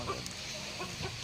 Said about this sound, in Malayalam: കോഴിനെ പേടിപ്പിക്കടാ കോഴിനെ.